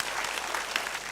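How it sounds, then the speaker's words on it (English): An audience at a debate competition final gives Team Moji a brief, dense burst of clapping, a short wash of many hands with no voices. "give a big round of applause for Team Moji"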